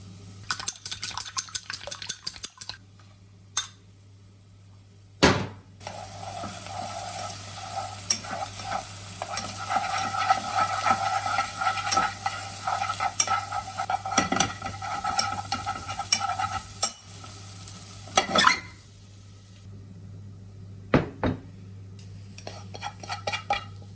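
Eggs stir-fry in a pan with carrot and Japanese dashi powder, giving a steady sizzle with repeated scraping and clinking of a utensil against the pan, plus occasional sharper knocks.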